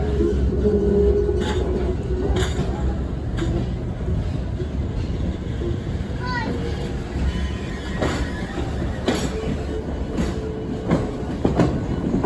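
A passenger train pulled by B&M locomotive 1860 rolls steadily along the rails near Barber Junction with a continuous low rumble and rhythmic clatter, plus occasional faint squeals, close and fairly loud throughout.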